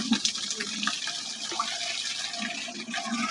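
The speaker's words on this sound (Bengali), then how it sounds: "এখানে পানি নিচ্ছে, খাওয়ার পানি, ডাইরেক্ট মোটরের পানি আর কি।" Water from a motor pump gushes into a drinking-water bottle, a close, steady splashing stream.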